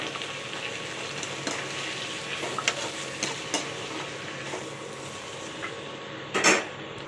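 Chopped onions and garlic browned in oil in a kadai for a spicy village-style fish curry, with tomatoes tipped in; a steady close sizzle runs throughout, dotted with light utensil clinks and a louder hissing burst near the end.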